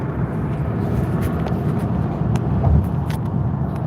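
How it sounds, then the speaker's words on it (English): Inside a car moving at about 90 mph, road and engine noise forms a loud, steady, low rumble that continues without a break. "I'm driving and it's pretty noisy."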